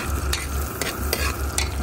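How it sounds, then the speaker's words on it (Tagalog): Garlic and ginger sauté in a hot pan for a native chicken dish, a loud close sizzle with rhythmic stirring scrapes about every half second. "Bawang, ginger. Igisa natin siya."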